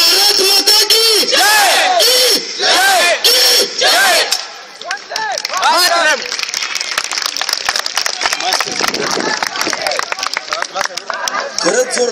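A large crowd of students roars a patriotic chant at a college event, loud repeated shouts at first, then shifting into sustained cheering and noisy crowd hubbub.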